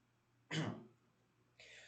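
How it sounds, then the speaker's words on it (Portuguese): A single sharp throat-clearing cough from a teacher during a remote Portuguese lesson, one close burst followed by a short pause and then a softer breathy exhale or second rasp. "Veio aquela vontade de espirrar e tossir."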